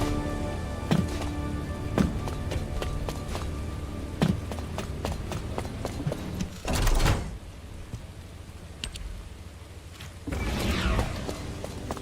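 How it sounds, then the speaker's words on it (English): Rain falling in the video game The First Descendant, a steady hiss with scattered sharp taps and clicks and a few louder swelling gusts. "This rain is really coming down."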